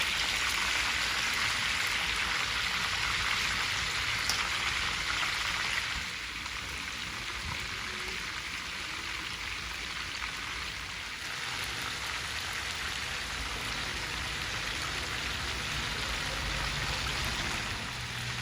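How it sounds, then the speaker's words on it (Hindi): Peshawari chapli kababs frying in hot oil, giving a steady, fairly quiet hissing sizzle that continues throughout with no talk. "जो कबाब है उसकी जो फ्राइंग है वो इतनी उम्दा हो रही है"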